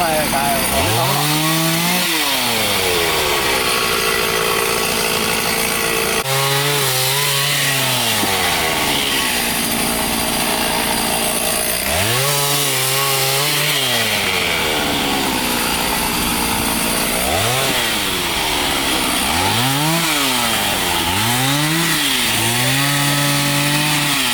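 A chainsaw cutting up a fallen tree blocking a rain-soaked forest road through Achankovil in Kerala, the engine revving up and bogging down repeatedly in long strokes, loud and close throughout.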